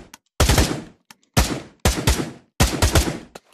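A few separate AK rifle reports followed by short three-round bursts in Pavlov VR, loud and close, with brief gaps between shots.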